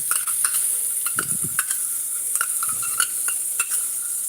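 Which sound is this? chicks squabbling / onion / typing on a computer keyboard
onion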